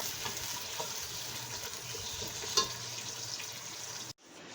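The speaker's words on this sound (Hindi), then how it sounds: "तो ये जो मैंने प्याज काटी है, ये सारी की सारी मैं इसके अंदर डाल दूँगी, ठीक है। और अब मैं इसको करती हूँ फ्राई।" Chopped onions frying in hot oil in a pot give a steady, loud, close sizzle that runs unbroken and then cuts off abruptly near the end, with no talking.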